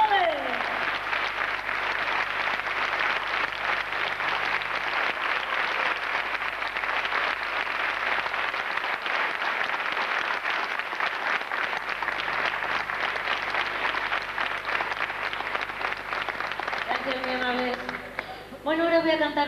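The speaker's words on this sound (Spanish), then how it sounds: "aplauso fuerte para este gran guitarrista" An audience at a 1995 festival in Valdepeñas gives a guitarist a long, steady round of applause, dense and continuous, with a voice breaking in at the very end.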